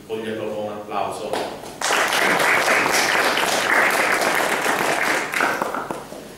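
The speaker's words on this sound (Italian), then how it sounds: "direi di coglierlo con un applauso" Audience applause at a talk on the antimafia movement, first under a speaking voice, then swelling into loud, sustained clapping from a full room that fades slightly near the end.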